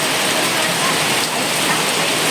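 Heavy rain pours down in Batangas, a dense, loud, unbroken roar of water hitting surfaces throughout, with no talking.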